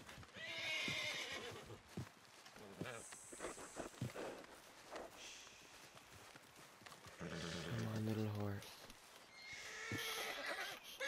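In the video game The Outer Worlds a horse neighs and snorts while hooves clip-clop, with whinnies near the start and at the end over game sounds, and a person talks in between.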